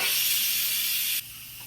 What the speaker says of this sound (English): So I'm just going to set this to vent now.